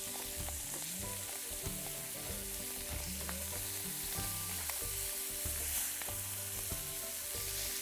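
Fish fry in butter in a pan set over coals, giving a steady, close sizzle and crackle that runs continuously without speech.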